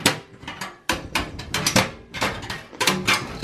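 An I/O shield backplate is worked loose from a Lenovo ThinkCentre desktop: an irregular run of close, sharp metallic taps, clicks and rattling knocks in quick succession.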